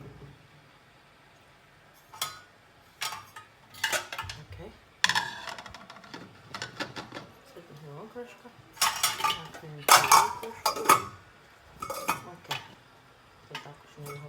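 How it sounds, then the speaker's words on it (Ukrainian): Metal lid set onto a pot of boiling potatoes and chicken, a series of sharp clanks and rattles of metal cookware in bursts, close, with quiet sounds between and a voice at moments. "Ми накриємо кришкою."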